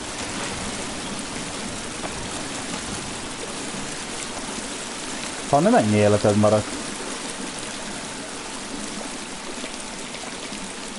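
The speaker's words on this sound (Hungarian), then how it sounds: "nagyon hangos itt a víz" Loud flowing water in The Forest video game rushes steadily as a continuous wash of noise, while a voice speaks briefly over it partway through.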